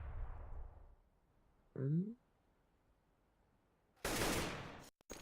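Counter-Strike gunfire on the Mirage map, a short burst of shots followed later by a loud broadband blast, with a caster speaking between them.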